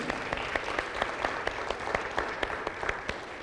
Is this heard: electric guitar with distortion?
no